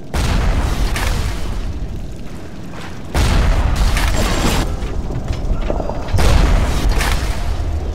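Weapon fire in the video game Bioshock: heavy booming blasts at about 0 s, 3 s and 6 s, each followed by rumbling, mechanical game noise, loud and close, with no talk.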